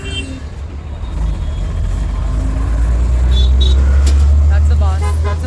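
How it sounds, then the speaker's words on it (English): Loud, steady street traffic on a busy road near a sweet shop, with cars, buses and rickshaws rumbling and droning close by, a horn-like tone near the end and a bird chirping faintly. "There's no background music other than traffic noise."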